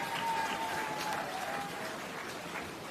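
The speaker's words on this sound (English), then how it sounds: "Please give him a round of applause" Faint, distant applause from an outdoor crowd at an urban centre groundbreaking ceremony, a soft steady wash of clapping with a little murmuring.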